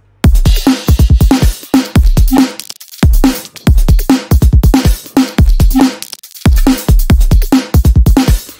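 Loud layered electronic drum loop for a drop, stacking a kick of about three layers and a snare of about four, hitting in tight repeating bursts with brief gaps between phrases.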